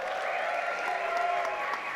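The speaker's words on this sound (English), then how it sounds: "So give yourselves a round of applause." Crowd applause at the Queerties awards show, a continuous roar of clapping and cheering with a faint voice mixed in, steady and fairly loud.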